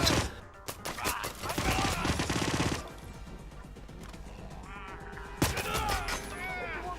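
Gunfire in a shootout from the stealth video game Hitman, with several sharp bursts of shots in quick succession up front, then a quieter stretch before another loud report and scattered shots, game noise underneath.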